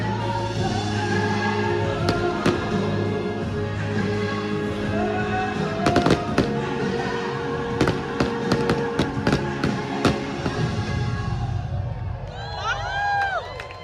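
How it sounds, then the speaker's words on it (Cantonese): Lion King-themed night fireworks show aboard the Disney Adventure cruise ship in Asia: sharp bursts and crackles layered over loud show music, with a crowd cheering and chattering throughout. "終於嚟到夜晚嘅重頭戲啦，咁啊獅子王嘅煙花匯演啊"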